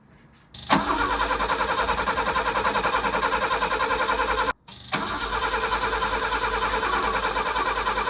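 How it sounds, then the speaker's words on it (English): A hot rod's starter motor cranks its engine, which will not catch: a steady rapid whirring churn runs loud and close for about four seconds, stops briefly, then a second long cranking spell follows. "I'm pretty keen to fire it up, make sure that starter works okay"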